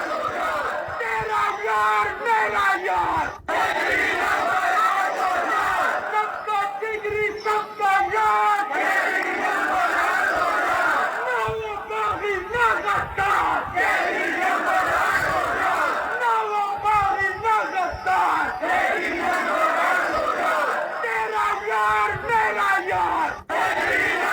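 Large crowd of supporters chanting slogans for Imran Khan, loud, dense rhythmic shouting that keeps rising and repeating without pause, with voices yelling through the mass of sound.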